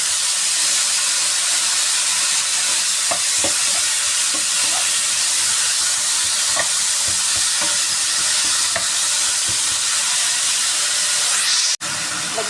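Mushrooms fry in a pan, giving a loud, steady sizzle and hiss with scattered pops and stirring clicks throughout, close and unbroken until a sharp cut near the end.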